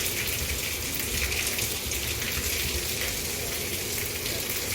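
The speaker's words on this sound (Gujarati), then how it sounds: "આજે આખો દિવસ અમદાવાદમાં ફૂલ વરસાદ પડ્યો છે" Rain falling steadily in Ahmedabad, a dense, even hiss of drops on surfaces that continues without pause, heard close and alone.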